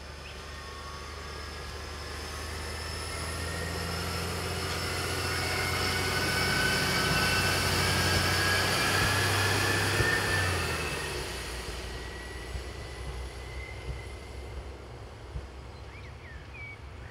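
A Class 813 diesel railcar, unit 813008, runs through Oslany station in Slovakia on a Prievidza to Nitra service, its engine and wheel rumble swelling as it nears and then fading away, with no voices.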